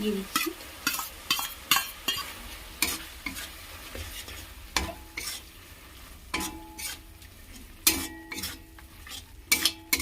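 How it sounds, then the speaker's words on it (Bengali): Fried eggs are stirred into spicy masala in a pan for egg ghugni: a quiet sizzle runs under repeated, sharp scrapes and clinks of a utensil against the pan, with a brief spoken phrase. "জল দিয়ে রেখে মশলাটা আবারও ভালো করে কষে নিয়েছি এবার ভেজে রাখা যে ডিমগুলো"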